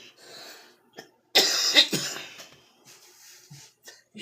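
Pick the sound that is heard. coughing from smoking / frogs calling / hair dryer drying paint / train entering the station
coughing from smoking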